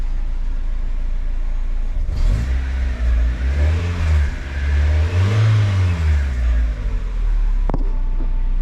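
A car engine, just recovered from nearly stalling during undercoating work, keeps running with a steady low idle that swells into a couple of revs before settling, close and loud with no talk.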